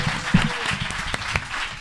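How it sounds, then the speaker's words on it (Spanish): Studio audience applause on a Spanish television show, dense steady clapping filling the whole short stretch at moderate loudness, with brief voices poking through. "Ella, Silvia Espósito, un aplauso para ella. Un aplauso, por favor."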